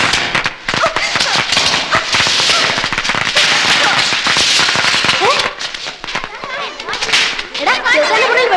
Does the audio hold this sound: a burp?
no